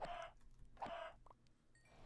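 Chickens in a video game cluck in short bursts, a few separate sharp calls spaced across the moment, fairly faint against a quiet background with no talking.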